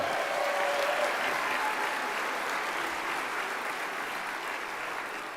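Military recruits applaud at an induction ceremony, a loud, sustained wash of many hands clapping that fades slightly toward the end, with no talk over it.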